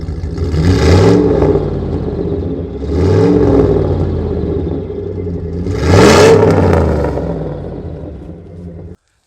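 A Jeep Grand Cherokee's 5.9 Magnum engine revs three times, each surge rising loud and rumbling before easing back to a steady idle.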